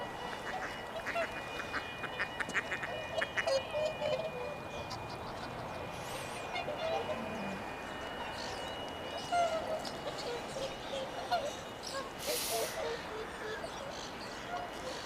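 Ducks quack repeatedly around a partly frozen pond in Reykjavik during a winter festival, moderately close, with other waterfowl calls mixed in over steady outdoor ambience and a person talking intermittently.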